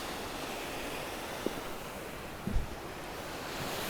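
Water rushes among rocks near a waterfall as a continuous broadband wash, steady and fairly loud, with a couple of faint knocks and no voices.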